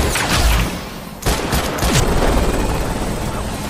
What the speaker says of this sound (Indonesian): Tim berhasil mendarat setelah Korkut melepaskan tembakan untuk mengalihkan perhatian musuh.